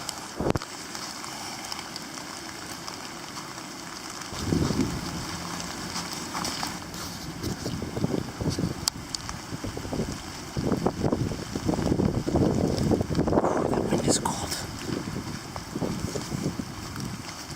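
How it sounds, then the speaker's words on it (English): Strong wind gusts through a forest of hemlocks and dead standing trees: a steady broadband rush that swells and surges in stronger bursts midway, with no voices. "it is really windy today"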